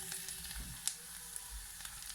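Onions sizzling and frying in a pan while being stirred for a vegan eggplant slider, a soft steady crackle with a couple of light scraping touches, fairly quiet.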